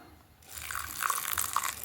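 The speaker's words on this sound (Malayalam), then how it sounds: "കുറച്ച് വെള്ളം ഒഴിച്ചു കൊടുക്കാം." A little water poured into a mixer grinder jar over masala with cumin for paste, a soft, quiet trickle that starts after a short pause and runs on gently.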